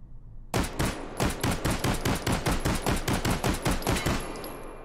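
Pistol shots in the VR shooter Hot Dogs, Horseshoes & Hand Grenades, a full magazine fired in an even rapid string of about fifteen sharp, loud reports.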